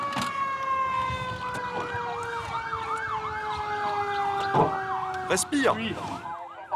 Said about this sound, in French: Au son des sirènes, les acteurs d'un jour entrent en scène